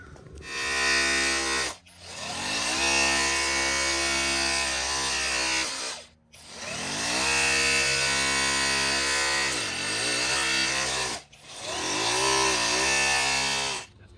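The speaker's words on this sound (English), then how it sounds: "use the chipping hammer now and go ahead and chip these out" An electric chipping hammer breaking a concrete curb buzzes and rattles loudly in three long continuous runs, with brief pauses between them.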